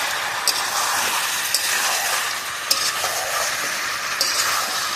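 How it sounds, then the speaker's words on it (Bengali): Chicken curry with raw potato pieces being stirred and sautéed in a pan over a clay stove, a steady sizzle broken by repeated sharp scrapes of the spoon, close up with no talk. "এইভাবে এবারে সমানে কষে"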